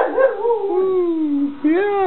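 Close, sustained dog howl with a wavering, talking-like pitch that dips and rises, one long drawn-out vocalization followed by a brief restart, loud and alone.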